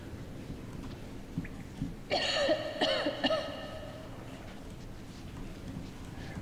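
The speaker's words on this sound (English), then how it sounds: "Stop coughing, Anna." A character in the video game Metro Exodus coughs and clears her throat in a short, quiet cluster of rough hacks, heard alone against faint background ambience.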